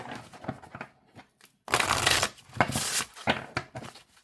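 Oracle cards shuffled side by side, giving quick riffling bursts and soft slaps in short irregular groups, close and fairly quiet, with brief pauses between shuffles.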